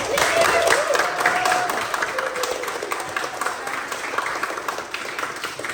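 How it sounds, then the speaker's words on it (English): Audience applause for sumo wrestlers after a practice demonstration, a dense patter of clapping that starts loud and eases slightly, with faint voices mixed in throughout. "I think they deserve another round of applause, right?"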